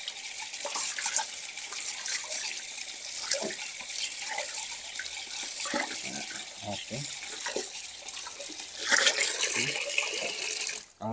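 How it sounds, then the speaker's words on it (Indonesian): Tap water runs steadily from a faucet while an aquarium filter is rinsed clean, a continuous splashing hiss with brief handling clunks and a short spoken word. "Kalau sudah selesai, matikan keran airnya."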